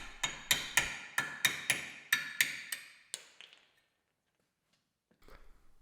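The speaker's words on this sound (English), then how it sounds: "I find it's easiest to knock the bearing cup out with a punch at this stage." Steel punch and hammer driving a universal joint bearing cup out of a vehicle driveshaft: about ten sharp, evenly spaced metallic blows close up, then a pause before a faint shuffle of handling.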